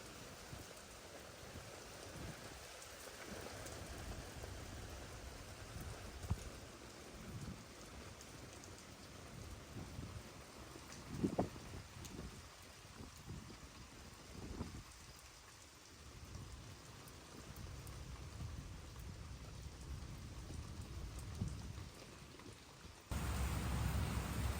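Steady rain pouring down on surfaces, a dense continuous patter with a few louder drips and a distant rumble of thunder, no voices.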